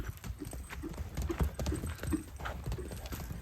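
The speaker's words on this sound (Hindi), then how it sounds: "ये खुला दौड़ता है ना घोड़ा, तो ही दिल से दौड़ता है" A horse runs loose and free at full speed, its hooves drumming out a quick, uneven clip-clop close by, with scattered strikes over a steady outdoor background and no talking.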